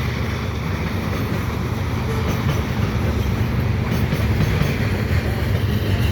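A westbound CN freight train with double-stack container cars and mixed freight passes a crossing at dusk, a loud steady rumble and rail roar holding throughout, with some wind noise on the microphone.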